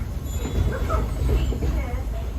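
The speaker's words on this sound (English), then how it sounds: "That's not a snake. It's a train." Low rumbling train noise with a steady roar and faint squeal, continuous and fairly loud.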